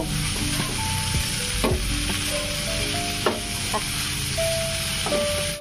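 Spices fry in a hot pan while being stirred, a constant loud sizzle with scraping strokes of the spoon for a few seconds, close up and with no talking.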